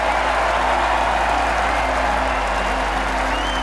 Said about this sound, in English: Crowd's going wild out there.